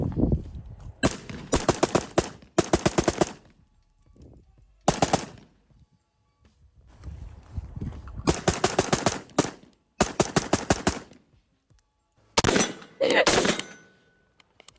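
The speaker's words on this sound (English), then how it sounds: "So I'm just going to go in the dirt because I don't really want to shoot 62 grain at steel" A rifle fires 62-grain rounds into dirt outdoors in several rapid bursts of loud, close cracks separated by short pauses, with faint voices in the gaps.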